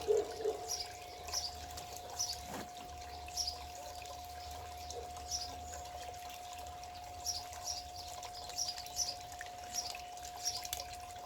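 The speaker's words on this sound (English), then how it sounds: "Just need a little bit more water flow, I think." Water runs steadily through a homemade gold clean-up sluice, a continuous trickling flow with light dripping and splashing, fairly quiet and even with no talk over it.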